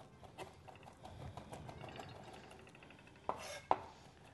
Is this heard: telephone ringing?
no